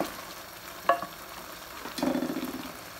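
Pieces of fish going into a hot curry pan for a Sylheti dried-fish (shutki) jhol: a soft clatter and stir around one second, then a louder burst of sizzling that slowly fades, close and alone with no talk.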